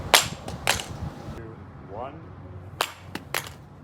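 An iPhone 16 Pro in a Poetic Neon case is dropped in a test, hitting a hard surface with several sharp, loud cracking impacts spaced across the moment, and a voice briefly heard between them.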